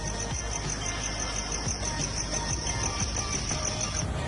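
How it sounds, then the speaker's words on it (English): Crickets chirp in a steady, unbroken high trill that forms a constant wash of night insect noise, with no voices over it. "with the noise of the crickets"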